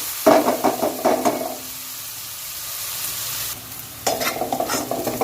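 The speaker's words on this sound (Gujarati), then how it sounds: "હવે આપણે આ ડુંગળીને બ્રાઉન થાય ત્યાં સુધીને સરસ શેકી લઈશું" Onions for chhole sautéing in a pan, with stirring scrapes and clatter over a steady sizzle, a quieter stretch of frying in the middle before the stirring picks up again.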